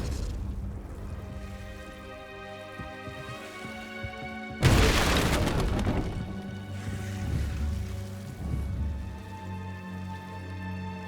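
A Confringo fire spell explodes in the video game Hogwarts Legacy, a sudden loud booming blast midway that rumbles and fades over a low game soundscape; no speech.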